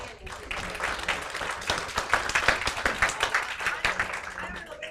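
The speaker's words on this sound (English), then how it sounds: "I think Bob deserves an applause." Applause at a yacht club town hall meeting, starting thin and building into irregular, distinct hand claps from a modest crowd, moderately near and growing stronger over five seconds.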